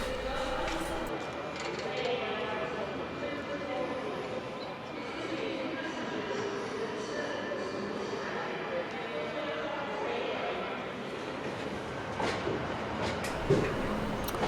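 A freight train of petroleum tank wagons from Doncaster arrives at a station platform with a steady rumble and rolling wheel noise, a moderate continuous drone with a brief clank near the end.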